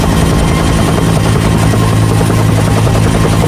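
Helicopter flying close overhead during a manhunt for an escaped prisoner in a film, a loud, steady, throbbing rotor roar with a heavy low rumble that continues throughout with no talking.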